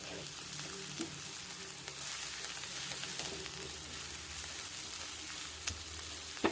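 Onions sautéing in a pan for puffed-rice uggani give a soft, steady sizzle with faint occasional stirring, heard quietly and alone without any voices.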